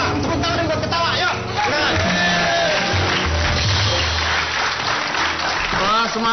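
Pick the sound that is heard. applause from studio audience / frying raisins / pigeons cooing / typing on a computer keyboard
applause from studio audience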